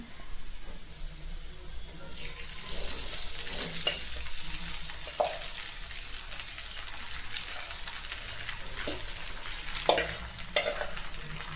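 Sabudana being stirred in a frying pan, giving a steady, fairly close sizzle with occasional soft scraping strokes from the spoon.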